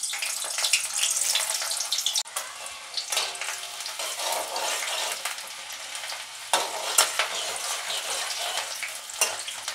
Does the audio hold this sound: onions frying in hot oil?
yes